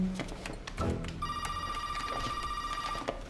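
A telephone rings once in a detective drama, a near, steady electronic trill lasting nearly two seconds after a few brief background noises.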